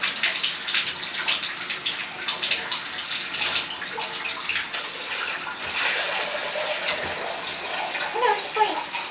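Water runs steadily from a tap into a bathtub while a dog is rinsed, a close, continuous splashing gush with a voice speaking briefly near the end.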